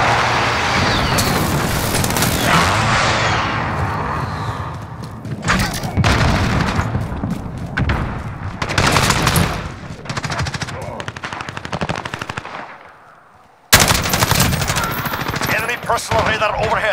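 Heavy automatic fire and booming shots from a gun in a Modern Warfare team deathmatch pound almost nonstop, loud and close, with brief gaps and a sudden silence before the shooting resumes.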